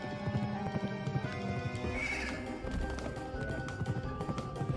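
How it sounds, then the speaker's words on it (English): A video-game horse gallops with rapid rhythmic clip-clop hoofbeats and lets out a whinnying neigh, close and clear throughout. "Now let me use the horse."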